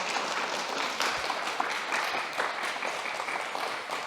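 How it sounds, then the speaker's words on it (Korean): A Korean mission church congregation in Berlin claps during a Sunday service to celebrate a baptism, a steady, fairly soft wash of applause that holds for the whole stretch. "우리 박수로 축하하겠습니다."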